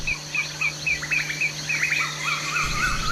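An Asian koel (tu hú) gives a series of short, bright chirping calls in quick succession over a faint steady hum, fairly close and clear.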